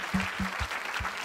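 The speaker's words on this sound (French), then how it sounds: "May we give a hand clap to the Lord for his word." A church congregation at a worship service in Evry claps together in a short burst of applause, with steady, fairly soft hand claps.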